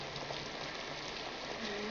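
Hard rain comes down steadily, a dense, even hiss holding at the same level throughout, with no voices over it.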